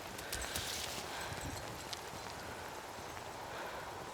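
Steady rain falls in Cairn, a dense, even hiss that runs unbroken throughout, faint and without voices.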